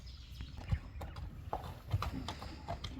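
Horse hooves clip-clop in an uneven rhythm at moderate distance, with a few sharper strikes standing out over low background rumble; the horse is a German-type animal in Nookat.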